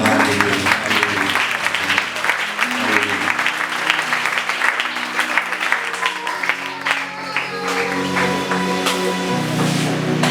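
A church congregation applauds loudly and continuously for about ten seconds, a dense, steady clapping crowd with music tones sounding underneath.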